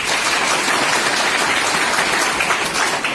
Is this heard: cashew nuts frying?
no